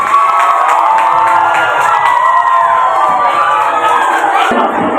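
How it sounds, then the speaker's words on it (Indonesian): A school audience at a junior high democracy event cheers and shouts continuously, with children's voices whooping loudly and steadily throughout. "tepuk tangan untuk Bapak Guru Bapak Kenan."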